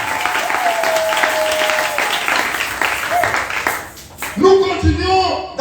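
A church congregation breaks into sustained applause and clapping during a French-language service, with voices mixed into the crowd before it fades and speech takes over.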